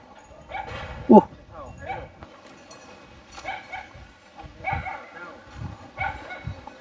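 A dog barks and yips in short bursts at moderate distance, mixed with whimpering, while people talk throughout.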